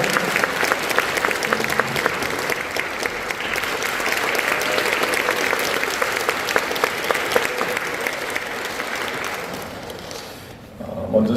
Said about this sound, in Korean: 다들 박수로 환영해 주시면 감사하겠습니다.